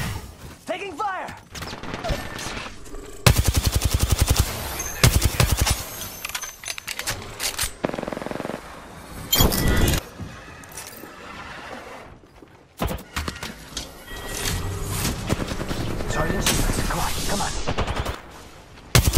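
Dense video game gunfire erupts in rapid automatic bursts and sharp single shots amid busy in-game effects, with occasional short spoken callouts over the shooting.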